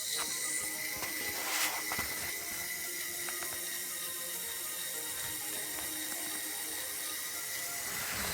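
A LEGO 6x6 off-road tractor's gearing drives its axle uphill, a faint, steady mechanical whirr with light ratcheting clicks and a few sharper ticks near the start, heard alone without talking.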